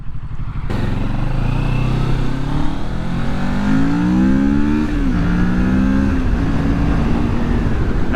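Kawasaki Ninja 650 motorcycle engine droning steadily while riding outdoors, with rising and falling pitch as the rider shifts and accelerates, mixed with constant wind rush throughout.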